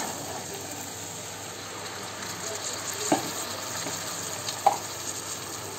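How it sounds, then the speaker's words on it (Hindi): Boiled chickpeas and spices are stirred in a pan, a low steady sizzle with faint scraping and two brief utensil knocks, close and quiet, with no voices. "अब इसमें हमने ये बॉयल चने डाल देंगे"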